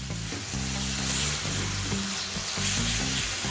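Ginger garlic paste frying in a pan for soybean pulao, a close, steady sizzle with spatula stirring and scraping strokes throughout, no voices.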